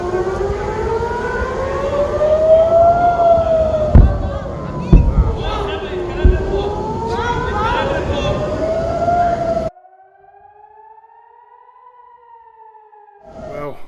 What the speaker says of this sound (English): We've heard the sirens.